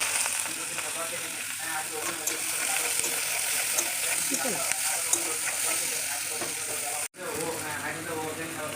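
Chopped onions go into a pan of frying meat, with a steady close sizzle and hiss, scraping stirring strokes, and a brief dropout near the end, while someone talks over it.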